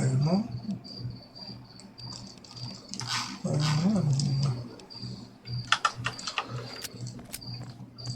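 Dogs in the video game Fallout TTW growl and snarl over a steady chirping ambience, with keyboard clicks and someone talking over parts of it.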